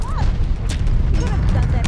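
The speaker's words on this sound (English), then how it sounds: "Throwing grenade." A grenade blast in Call of Duty: Vanguard on the Shipment map, a short sharp burst in the middle of steady loud gunfire and game noise, with a voice talking over the mix.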